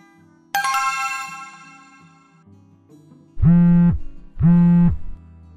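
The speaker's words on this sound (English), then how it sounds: "Simon, I'm going to call you now. Answer your phone, please." An incoming call sets off a phone ringtone: a bright chime sounds first, then two loud, sustained electronic rings follow in steady succession, each about half a second long, with no voices.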